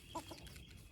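A rooster among a flock of hens gives a couple of quick, faint clucks close by, brief throaty notes standing out over quiet farmyard background.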